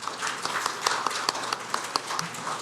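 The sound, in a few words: audience applause at a conference opening ceremony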